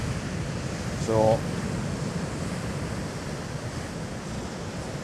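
Sea waves breaking on the Northumberland shore during a big tide, a steady broad roar of surf with wind noise throughout, and someone briefly speaking near the start.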